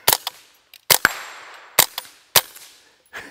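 Sharp, close .22LR shots from a Tippmann M4 Micro Elite rifle, five or six single cracks fired at an uneven pace, each with a short ringing decay, and no talk.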